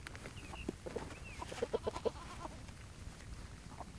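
Farm animals including a goat and chickens, with faint short calls scattered through a noisy outdoor background and a small cluster of brief clucks or bleats near the middle.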